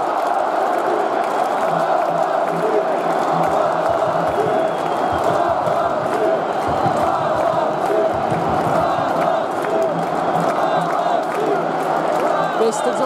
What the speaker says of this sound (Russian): Весь стадион кричит: молодцы, молодцы.